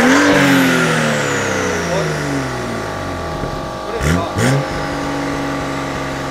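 A Suzuki Swift with a manual gearbox revs close by, its engine note sliding down and climbing again in repeated sweeps, with a couple of short, sharp bursts near the end.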